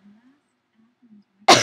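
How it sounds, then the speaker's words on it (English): One abrupt, loud cough lands close to the microphone at the end, after a few soft, low vocal sounds; the person is still recovering from an illness. "And I apologize for the coughing."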